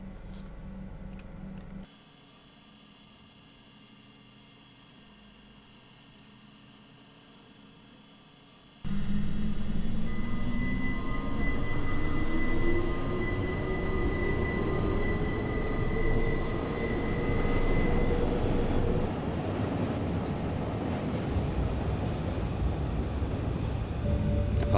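A train on the Arosa line in Train Simulator 2018 pulls away from St Peter-Molinis, a steady rumbling roll rising in pitch as it gathers speed, with a constant hum and faint tones, loud and close after a quiet start.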